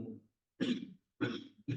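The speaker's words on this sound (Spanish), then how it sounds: "ahora me entra también aquí la tos" Three short, rough coughs in quick succession from a nearby person, each a brief harsh burst separated by silence.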